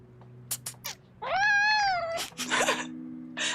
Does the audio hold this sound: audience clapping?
no